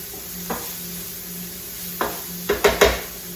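Diced vegetables sauteing in a pan, a low steady sizzle broken by a few sharp close clacks and scrapes of a utensil against the pan, louder toward the end, with no talk.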